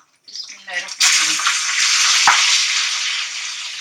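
A brief voice, then a sudden loud burst of sizzling as masala spices hit about half a cup of hot oil for chicken karahi, settling into a strong, steady hiss up close.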